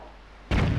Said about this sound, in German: deswegen schieße ich einfach mal spontan einen Probeschuss